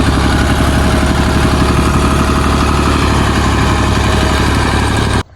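A tractor engine idles loudly and close in a village, its low rumbling chug steady for about five seconds before cutting off abruptly.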